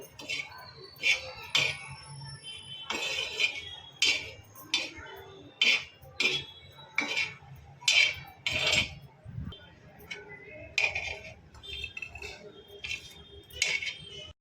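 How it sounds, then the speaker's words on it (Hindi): Spoon clinking and scraping against a bowl while chana chaat ingredients are mixed, a steady series of sharp metallic taps and chinks repeating about once a second, close up and fairly loud. "सारी चीज़ों को इस तरीके से मिक्स कर लेंगे।"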